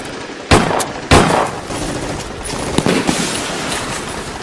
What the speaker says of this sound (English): Give them some cover fire.